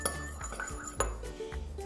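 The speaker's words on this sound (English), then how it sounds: "We're gonna mix these together." Tangerine and palmarosa oil drops stirred into a bath powder mixture in a bowl, giving soft, irregular clinks and scrapes of a utensil against the dish at close range.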